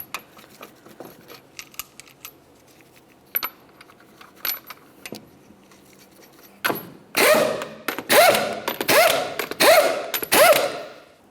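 An impact wrench drives the 21mm wheel lug nuts on a 2009-2010 Pontiac Vibe in five loud, close, rattling bursts, preceded by light metallic clinks and taps of parts being handled.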